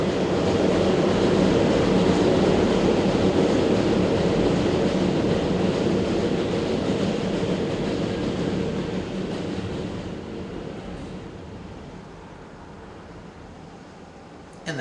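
A J Train passing by in the city, a loud broad roar that holds steady for several seconds and then fades gradually as it moves away, with no talking.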